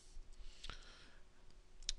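Soft, faint computer mouse clicks come while a 3D prop model is being prepared in Marmoset Toolbag, a couple of sharp ticks over low room noise, with no talk.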